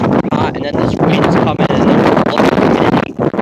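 Strong gusting wind from a wind storm buffets the microphone with loud, rough roaring rushes that keep surging throughout.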